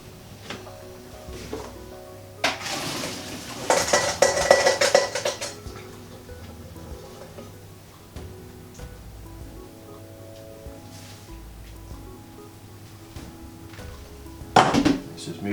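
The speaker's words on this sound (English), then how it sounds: "I'm going to take those off the boil and then drain them" A saucepan of potatoes boiled about twenty minutes is lifted off the heat and drained, with clattering metal pan knocks, a rushing pour of water, then quieter handling and a final loud clunk, close in a home kitchen.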